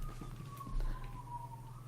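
Emergency sirens pass outside, a faint wavering wail heard at a distance beneath low background rumble.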